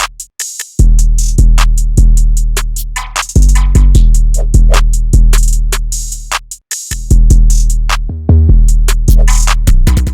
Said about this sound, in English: all the drums by itself without the melody sound like this